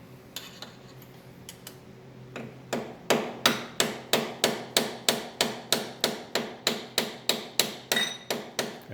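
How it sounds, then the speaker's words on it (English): Steady series of about twenty metallic hammer blows knocking a bushing out of the feed roller of a green Ryobi 3302/3304 printing press, evenly paced and close, after a few lighter taps. "I'm going to knock the same bushing here"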